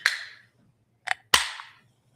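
A drink being cracked open: a sharp pop, a short hiss, then a second louder burst of fizzing that fades over half a second, close and with no talk.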